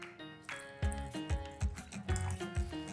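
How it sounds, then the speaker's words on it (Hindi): Water poured into a pan of cooking sweet dry ginger chutney gives close, wet drips and soft bubbling splashes that repeat irregularly, with no voices. "इसीलिए थोड़ा सा हम डाल देंगे पानी।"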